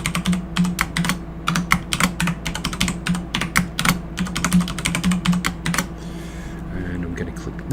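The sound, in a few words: typing a password on a computer keyboard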